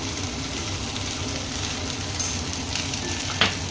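Okra frying in a pan, a steady close sizzle with light stirring scrapes and a brief clink near the end.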